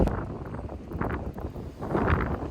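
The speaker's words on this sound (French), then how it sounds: "Je sais pas si vous m'entendez avec tout le vent." Strong wind on the coast of Réunion buffets the microphone in loud, gusty rumbles that rise and fall continuously, with no other clear sounds.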